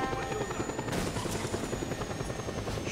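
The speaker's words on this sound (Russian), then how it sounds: "мне просто сейчас вертолет снесут и все" Helicopter rotor thumping in Just Cause 2, a loud, steady rhythmic chop up close, with bursts of gunfire crackling over it.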